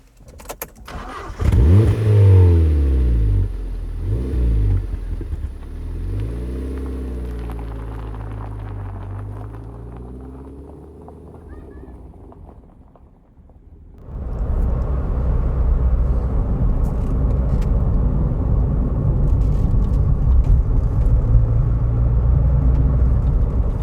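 A Ford SportKA hot hatch starts and revs, its engine note rising and falling through rough, rumbling swells. It settles briefly, then pulls away into a steady, loud driving drone with road noise.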